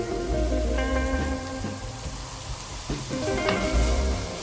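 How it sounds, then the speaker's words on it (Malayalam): Salted onions sautéing in a pan on medium flame for Kozhikodan chicken dum biryani, a close steady sizzle with occasional spoon scrapes and taps against the pan. "മീഡിയം ഫ്ലെയിമിലാണ് ഉള്ളി വഴറ്റേണ്ടത്."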